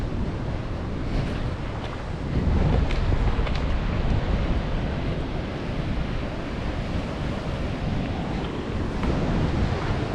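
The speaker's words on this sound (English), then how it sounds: "The sea is very, very choppy." Choppy sea surf rolls steadily onto the shore at St Bees, with gusting wind buffeting the microphone throughout; the roar of the waves stays loud and continuous, swelling slightly after a couple of seconds, with no voices.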